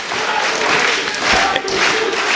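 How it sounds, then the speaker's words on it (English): A crowd claps steadily at a 2012 Chikara Pro wrestling show, the King of Trios event. The applause is loud and dense, with a general crowd roar throughout. "he's clapping with other members of the Chikara, trying to help rally Team JWP"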